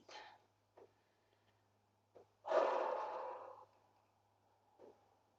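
One long, slow exhale during a yoga session, breathy and fairly close, framed by a few short, soft breaths and sniffs in an otherwise quiet room.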